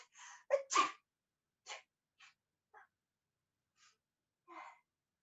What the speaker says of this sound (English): You have a really cute sneeze.